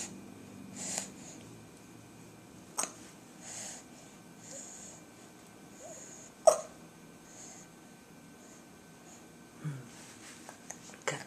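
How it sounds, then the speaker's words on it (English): A person's hiccups, several short, sharp, quiet catches spaced irregularly over a hushed indoor background, with one louder hiccup in the middle. "Got the hiccups too, right?"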